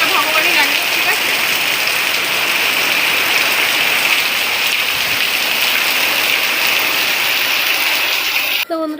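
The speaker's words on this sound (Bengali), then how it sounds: "এতক্ষণ পর বৃষ্টি একটু কমেছে" Steady rain falling on a surface, a dense even hiss that holds for most of the stretch, starting to ease, with a brief cut near the end.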